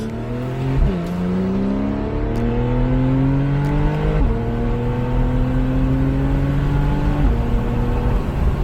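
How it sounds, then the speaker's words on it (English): A 2015 Porsche 911 Carrera 4S with its flat-six accelerates hard, engine note climbing steadily with three quick PDK gear changes that each drop the pitch before it rises again, loud and continuous with no talking. "As you can see there, shifting through the gears is exceedingly great."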